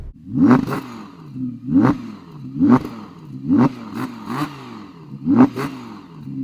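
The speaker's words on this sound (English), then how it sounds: "So I'm going to rev up my V10." An Audi R8 V10 engine is blipped about five times in an even rhythm, each rev rising sharply and falling back to a low idle between them, loud and close with no talking.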